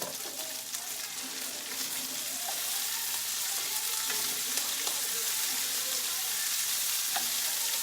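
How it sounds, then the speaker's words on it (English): Tomatoes frying in a pan, making a steady close sizzle with faint occasional crackles and small utensil clicks, fairly even in loudness. "I'm going to put my tomatoes in."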